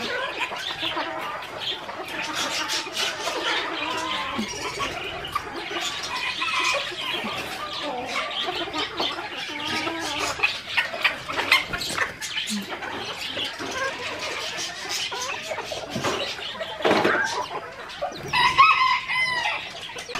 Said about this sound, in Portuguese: esse é um pintinho que tá com a choca ali